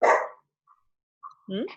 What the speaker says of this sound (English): Oh, somebody else has a dog too.